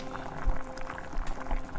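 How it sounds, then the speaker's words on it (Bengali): Gravy water for a spicy tangra fish chorchori simmering in a pan, a soft bubbling with small pops and low thumps, quiet and close with no talk. "গ্রেভির জলটা খুব ভালো করে ফুটে উঠলে"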